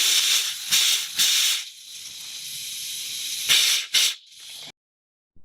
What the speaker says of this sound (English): if you're going to use compressed air, try to get as much of the brake fluid out as you can